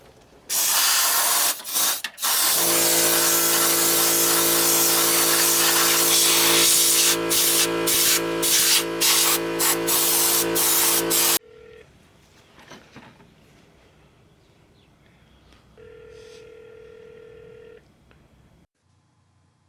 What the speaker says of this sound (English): I'm getting ready to use the air gun, put my respirator on, and blow this crap out.